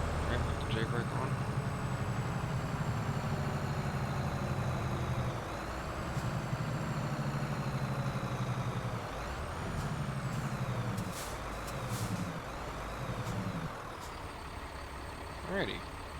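A Mack Pinnacle truck in a truck-driving video game, heard from outside with its Jake brake engaged, giving a loud, steady low engine rumble that pulses in short bursts before tapering off, with faint hiss and a brief beep-like tone.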